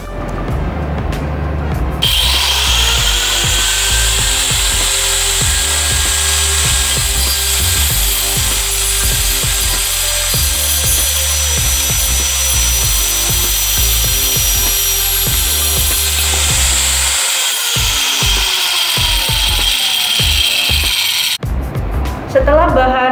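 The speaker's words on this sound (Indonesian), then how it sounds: "bahan siap untuk dipotong menggunakan grinder" An angle grinder cuts through a piece of wood clamped in a vise in a workshop lab. It gives a loud, steady grinding whine for about nineteen seconds and then stops near the end.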